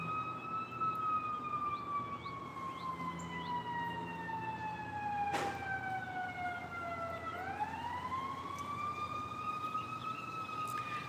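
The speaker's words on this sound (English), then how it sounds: "Here comes a siren." A wailing siren sweeps down in pitch and then rises again, loud and steady over a low road rumble, with one brief sharp click midway.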